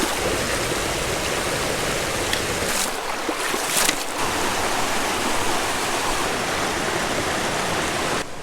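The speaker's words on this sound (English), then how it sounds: "It's not very often you have a really photogenic creek such as this one, with access to the river and a good flat camp spot around it." Rainforest creek flowing near the river, a loud, steady broadband rush of water, close and continuous throughout with no other sounds.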